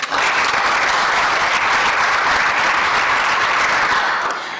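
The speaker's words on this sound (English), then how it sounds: "Let us give them a round of applause." An audience applauds loudly and continuously, a dense wash of clapping that holds steady and then tapers at the end.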